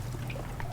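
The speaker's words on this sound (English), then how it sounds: "This pump is called a thirsty mate." Water being pumped out of a flooded boat with a Thirsty Mate hand pump, a steady close pouring and trickling stream with a low continuous rumble.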